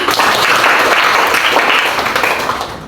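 Sixth-grade schoolchildren clap together in a classroom, a dense, steady patter of many hands holding for about three seconds before easing off slightly at the end.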